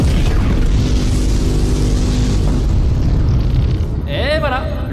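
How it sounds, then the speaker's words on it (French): A loud, sustained boom like a cannon firing, a continuous roar lasting several seconds that ends in a descending whistle-like tone, used as a comedic anti-spam cannon effect at a live quiz-duel event. "Activation du canon anti-spam dans 3, 2,"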